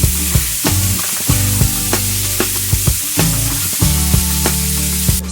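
Meat browning slowly on both sides in a hot pan before going into an oven pot for pies, a loud continuous sizzle punctuated by regular sharp spatula taps and scrapes, with no talking.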